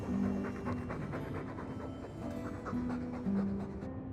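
A dog pants steadily in the Dragon Age 2 video game, its quick rhythmic breaths running continuously over a busy background of music and ambient sound.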